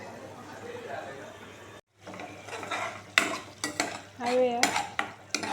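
A utensil stirs cumin, turmeric and salt in a cooking pan, making scraping strokes and sharp clinks against the metal. Light sizzling runs underneath, and a person speaks over it at times.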